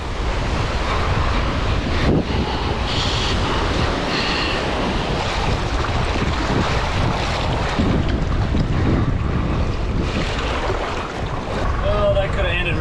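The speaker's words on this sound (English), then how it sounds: "the waves are getting bigger and the winds are getting bigger, stronger" Strong wind buffets the microphone over crashing waves near a boat anchored by rocks on an ocean coast, a loud continuous roar with surging swells and no speech.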